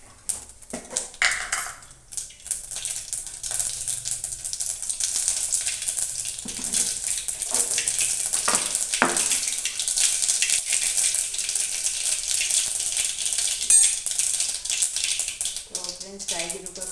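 Mustard and cumin seeds crackling in hot oil for chutney, a dense, continuous spattering sizzle that builds and holds, with a few utensil clinks and brief speech near the end.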